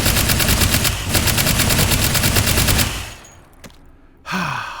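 A pneumatic rivet gun firing in the game H3VR: a steady, rapid stream of sharp clattering shots for about three seconds, then it stops and a brief hiss and a clank follow.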